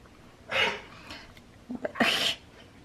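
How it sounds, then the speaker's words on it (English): A nine-year-old dog sneezes twice, each a sharp breathy burst close by, with a few small snorts and sniffles between them. "Have you ever watched a dog sneeze?"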